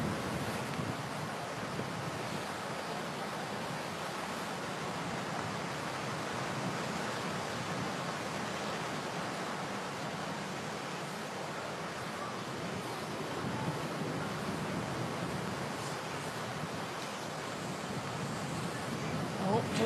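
Steady, broad wind roar buffets the microphone on a windy golf course during a professional women's tournament in Taiwan, loud and continuous throughout with no clear voices.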